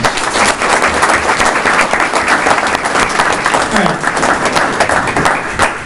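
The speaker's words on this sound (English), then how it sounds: "let's give them all a round of applause" A city council meeting audience applauds newly elected officials, dense sustained clapping filling the room for several seconds, loud and steady with a few voices mixed in.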